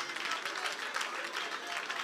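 Church congregation clapping during a worship service, a steady, dense patter of many hands, moderately loud, with voices mixed in under the clapping.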